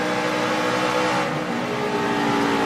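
NASCAR trucks race at Las Vegas, a dense continuous engine drone with layered whining tones from several vehicles, loud and steady with a slight dip midway.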